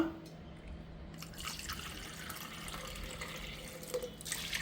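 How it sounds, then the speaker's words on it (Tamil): Water pours and trickles into a metal pressure cooker, faint and steady, with light splashing as it fills. "5 கப்ஸ் தண்ணி ஊற்றிக்கோங்க."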